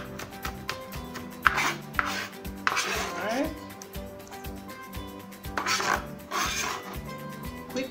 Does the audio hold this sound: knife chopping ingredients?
yes